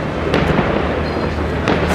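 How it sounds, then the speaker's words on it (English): New Year's fireworks bursting near the Eiffel Tower in Paris, a dense continuous roar of distant pops and booms with a few sharper cracks standing out, loud and unbroken. "There's fireworks everywhere."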